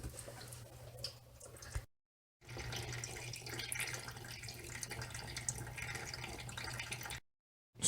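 Coolant drains steadily from a 2015 Dodge Grand Caravan R/T 3.6L during a thermostat replacement, a faint continuous trickling and splashing with a brief break partway through.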